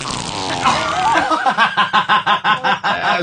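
A loud, sputtering fart sound with a rapid series of rhythmic, buzzing pulses, heard alone at close range.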